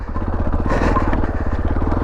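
A 2019 Beta Alp 4.0 motorcycle climbing a chalk hill slowly while the rider paddles with his feet; its single-cylinder engine gives a loud, steady, rapid thumping, close up, with no talking.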